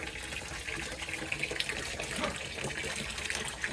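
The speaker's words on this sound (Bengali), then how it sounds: "ধোয়াধুয়ির কাজ শুরু হয়েছে।" Tap water runs steadily into a sink as freshly cut fish is rinsed, a continuous close splashing gush with no voices.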